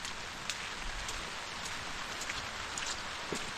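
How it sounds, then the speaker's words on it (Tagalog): Steady rain falls throughout, a dense even hiss with scattered louder drops, no voices. "Yan, ulan naman."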